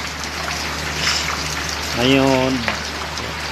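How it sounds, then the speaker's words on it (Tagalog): Steady rain patters across surfaces in a continuous hiss while someone speaks briefly over it. "Ngayon, ulan na lang."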